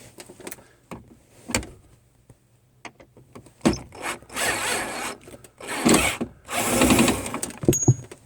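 A power driver fitted with a T27 Torx bit spins out the bolts holding a two-wheel-drive/four-wheel-drive switch in a vehicle's dash, giving several short whirring bursts between pauses and handling clatter.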